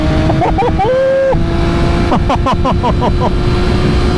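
A 2020 MV Agusta F3 800 RC motorcycle on a road ride, its engine droning loud and close, pulling through a couple of rising revs with a burst of quick throttle blips, while someone speaks over it.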